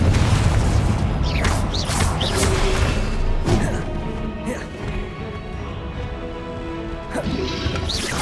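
Spell blasts and crashes in Hogwarts Legacy, with repeated booming impacts and smashing debris in a busy, continuous game soundscape, several sharp hits spread across the stretch.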